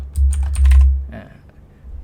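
Quick bursts of computer keyboard typing while text is changed in a Figma web design, a short run of close key clicks followed by a quieter pause and a few faint taps.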